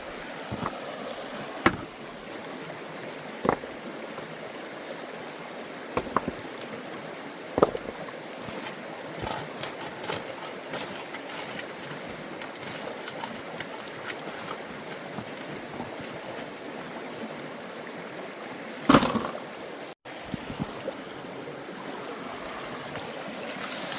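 Water and dirt washing through a drop riffle sluice box outdoors, a steady rushing flow with scattered louder splashes and knocks, close and continuous.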